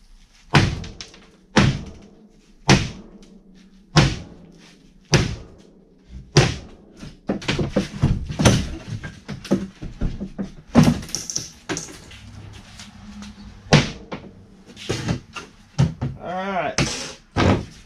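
A wooden item is smashed apart for the burn pile, giving loud, close, irregular thuds and cracking knocks spread throughout, with talking between some impacts.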